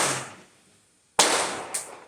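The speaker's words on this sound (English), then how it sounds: "That's my son doing them damn fireworks, and he knew I'm on the damn live." Fireworks go off nearby: a hiss fading out, then a sharp loud bang after a near-silent pause, followed by a second, smaller crack.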